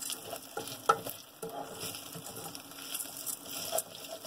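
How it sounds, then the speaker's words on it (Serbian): Basmati rice sizzling and crackling as it fries in oil in a pan while being stirred, a steady close hiss with small irregular pops and stirring scrapes, no voices. "kao što čujete, svrči."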